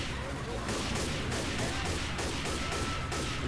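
Video game gunfire during a shooter session, a dense burst of repeated shots forming a continuous fusillade, moderately loud throughout with a noisy, busy background.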